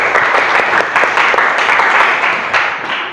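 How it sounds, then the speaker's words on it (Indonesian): A classroom of students applauds together in a school lesson, a dense, steady burst of many hands clapping close by for about three seconds, with no talk over it. "Tepuk tangan buat kita semua."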